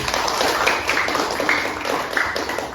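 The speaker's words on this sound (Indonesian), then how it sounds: "Tepuk tangan untuk kelompok 1" Classroom students clapping for a group of classmates after their presentation, a busy steady patter of many hands, fairly close and continuous.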